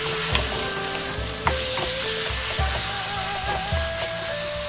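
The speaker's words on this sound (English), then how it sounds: "So I'm going to add in my pork." Pork stir-fried in a wok gives a loud continuous sizzle, punctuated by regular metallic scrapes and knocks of a spatula tossing the meat, with a steady hum underneath.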